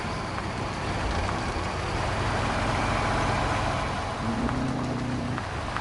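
A heavy truck engine in the off-road mud game Spintires Mudrunner drones steadily and low throughout, with a rising tone near the end that sounds like the truck straining as it pulls.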